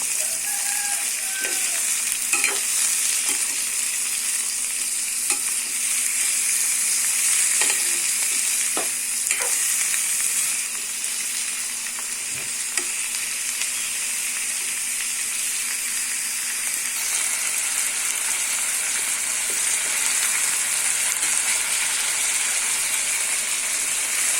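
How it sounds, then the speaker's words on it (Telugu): Ivy gourd (dondakaya) curry frying in a pan with a steady sizzle and hiss throughout, punctuated by scattered scrapes and clicks as it is stirred, close and fairly loud with no voices. "బాగా కలుపుకోవాలి"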